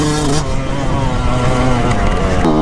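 A 125cc motorcycle engine, freshly rebuilt with a balanced crankshaft, revving loudly and steadily close by, its pitch climbing again near the end.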